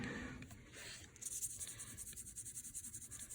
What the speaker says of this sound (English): I'm going to go ahead and do crosshatch.